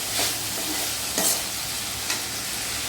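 Food fries in oil in a pan, a steady close sizzle broken by a few louder scraping stirs at intervals.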